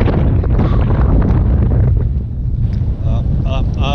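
Strong wind on Mt Charleston in Nevada's Spring Mountains buffets the microphone in a loud, continuous roar, with brief fluttering near the end as gusts shift.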